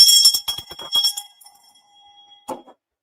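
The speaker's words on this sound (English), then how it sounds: "We ring the bell for victorious test takers" A bell is rung to celebrate passing the Series 7 exam, struck in a quick flurry of bright clanging strokes that fade into a lingering ring, followed by one last lone strike.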